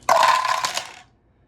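Dice tumble down a dice tower in a tabletop wargame, giving a brief loud clattering rattle of several dice that lasts about a second, then dies out.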